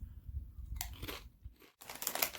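Doritos Jumpin' Jack Cheese chips are crunched and chewed up close in a run of quiet, crisp bites, with a brief silent gap before a final burst of crunching.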